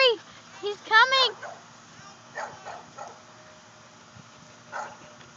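A puppy yips and whimpers in a few short high bursts near the start, followed by softer scattered barks and movement at a distance in a quiet indoor space.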